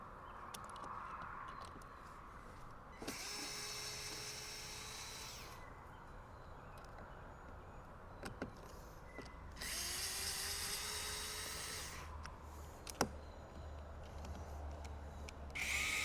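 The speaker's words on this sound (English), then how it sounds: "we're going to start off by removing, you got two screws on either side for this top cover here" A power screwdriver whirs in short bursts as it backs out Phillips screws from the top cover of a Pῡr-Speed electric balance bike, two runs of a few seconds each with quiet pauses and faint clicks between.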